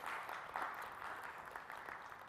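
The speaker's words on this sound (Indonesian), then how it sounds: "Kita berikan tepuk tangan yang meriah Bapak Ibu hadirin sekalian." Hall audience at a civil servants' anniversary ceremony in an auditorium gives a brief round of applause, steady, dense clapping that sounds fairly distant and soft.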